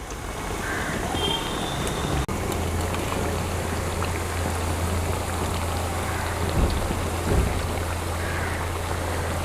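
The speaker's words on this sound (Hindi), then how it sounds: "तो जैसे जैसे मटरी फ्राई होती जाएगी वैसे वैसे ये तेल के ऊपर तैरने लगेगी" Mathri, a flaky fried snack, frying in a pan of hot oil gives a dense, continuous sizzle and crackle like steady rain, close and even throughout, with a low hum underneath and no talking.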